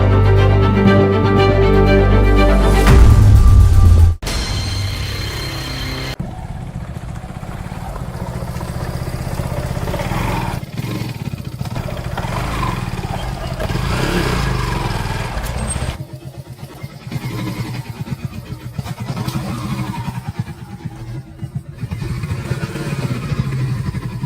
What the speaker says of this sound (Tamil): பைக்கை ஏற்றி இறக்கி என்ன ஆகுது அப்படின்றத பார்த்துடலாம்.